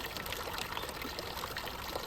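Holy water from a spring at a Himalayan pilgrimage site pours in a steady, continuous splashing stream, close and even, with no voices.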